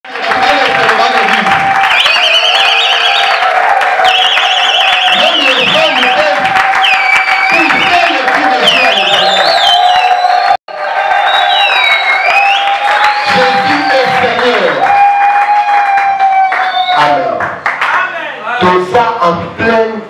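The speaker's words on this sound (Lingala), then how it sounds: "acclamons les." A church congregation bursts into loud cheering and applause, with shrill whistles, ululating voices and clapping merging into a continuous, close roar that briefly cuts out midway, then resumes and thins toward the end.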